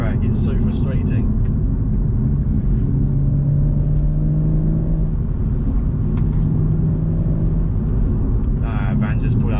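2018 BMW M140i engine accelerating, a steady close cabin drone with a rising engine tone under someone talking at the start and end.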